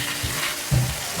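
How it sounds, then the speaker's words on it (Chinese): Tofu and chayote stir-fry in a wok with a steady sizzle and a brief scraping stir partway through, close by and with no voices. "快速的翻炒，使豆腐和佛手瓜充分的融合。"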